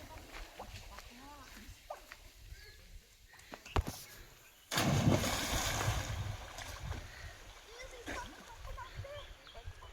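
Water splashes loudly as people jump in to swim at a village swimming spot in Konkan, with a sudden burst of splashing midway followed by continued churning water under excited voices.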